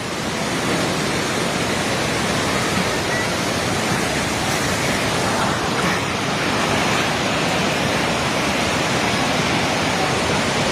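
Loud, continuous roar of a flooded river rushing in Nepal, a dense broadband torrent that stays steady and close throughout with no pauses.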